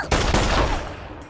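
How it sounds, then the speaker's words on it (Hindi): Movie gunfire: a loud, close burst of rapid shots with a sharp crack at the start, another blast shortly after, and echoing decay, with no voices. "क्यों गोलियां चला रहे?"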